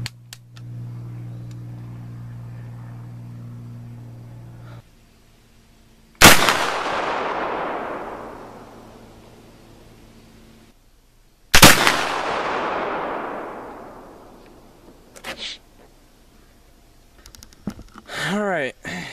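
A Thompson Center Hawken muzzleloader loaded with 80 grains of Pyrodex and a round ball fires twice outdoors, each a loud boom with a long decaying tail, separated by quiet pauses, after a low steady hum and some faint handling noises.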